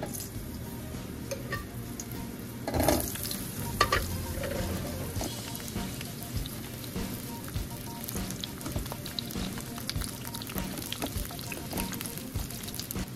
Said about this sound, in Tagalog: Lagay po natin yung mga talong para prituhin muna natin.